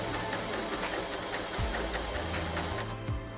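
A Kreshay sewing machine stitches fabric with a steady, close, continuous mechanical whir and hum at an even pace, with a brief change in motor pitch near the end.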